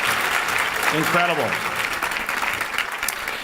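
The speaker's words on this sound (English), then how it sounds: "How about a round of applause for the Falls View Casino?" An audience at an award dinner applauds with sustained, crowded clapping filling the room, while someone speaks one short word over it near the start.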